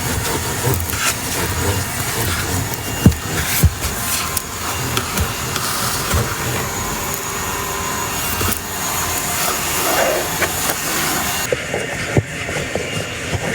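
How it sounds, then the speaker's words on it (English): A vacuum cleaner runs steadily while cleaning a very dirty car interior, a loud broadband roar with occasional knocks and bumps as the nozzle moves around, and it cuts off near the end. "Most important step. Got a vacuum."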